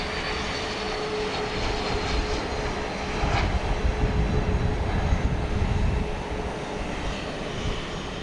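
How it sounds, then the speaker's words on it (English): A Beechcraft Premier 1 business jet bound for Austin, Texas, roars steadily at Dallas Love Field at night, its engine noise swelling midway and holding loud and close before easing slightly, with a faint whining tone running underneath. "On its way to Austin, Texas, a Beechcraft Premier 1."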